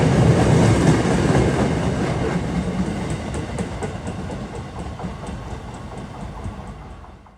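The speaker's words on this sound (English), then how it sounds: "These locomotives sound like B-52s when they start up. You hear that shrill, it sounds like a jet engine, a high-powered one." An MPI HSP46 passenger locomotive of the MBTA at startup, a loud broadband roar with a shrill jet-like high end that slowly fades, with faint clicking of rail cars underneath and no talking.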